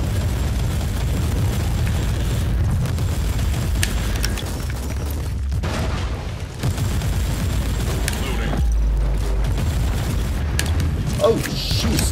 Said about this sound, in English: Shooting freaking Ripper grenades at me like that.